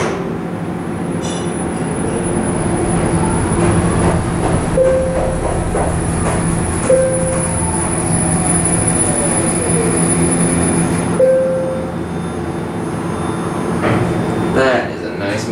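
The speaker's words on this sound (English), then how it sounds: "That is a nice motor" A Montgomery traction elevator motor in a Broadway parking garage runs with a loud, steady mechanical hum and rumble, plus sustained whining tones and brief pitched squeals throughout, with voices faintly present.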